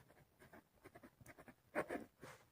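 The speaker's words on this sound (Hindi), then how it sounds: "तो हम यहां पे लिखेंगे सलमाज अमाउंट" Pen or chalk writing out a math solution for a profit and total-amount problem, with quiet scratching strokes that rise to a louder burst of scribbling near the end, no speech.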